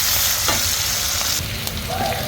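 Chopped onion and a few green chilies frying in hot oil in a wok, giving a steady, close hiss and crackle throughout with a few light stirring clinks and no talking.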